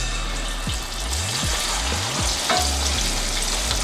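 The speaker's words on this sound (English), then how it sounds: "The oil is heated and the stove is on medium low. Now I'm gonna add my fritters batter." Jamaican salt fish fritter batter frying in hot oil on a stove set to medium-low gives a steady, close sizzle with a few soft clinks and stirs, and no voices.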